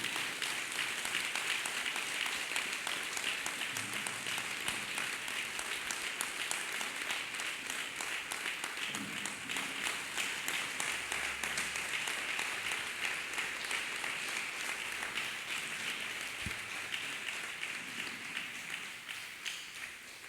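A congregation claps hands in sustained, even applause for about twenty seconds, a steady distant wash that gradually tapers off.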